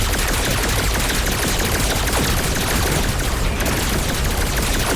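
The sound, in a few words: pistol gunfire in a video game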